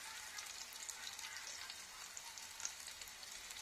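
Onions fry in a pan, giving a faint, steady crackling sizzle with a soft hiss throughout. Occasional small pops rise above it.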